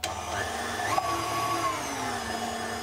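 An electric mixer whisks sponge cake batter for a rolled apple cake after flour is added to the eggs, sugar, baking powder, vanilla sugar and milk. It gives a steady, close motor whir whose pitch shifts slightly as it churns.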